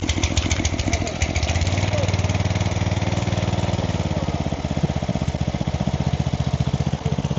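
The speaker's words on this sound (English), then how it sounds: "This is a 2-inch pump running at idle." A 2-inch water pump's small engine idles loudly and close, a steady fast putter of exhaust pulses running unbroken throughout, with no voices.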